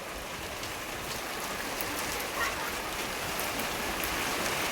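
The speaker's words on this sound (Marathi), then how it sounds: "पाऊस सुरू झालेला आहे रे डेंजर हवा आणि पाऊस" Heavy rain pours steadily during a sudden Diwali-season storm, a dense, even wash of drops spread across the whole scene with no gaps or lulls.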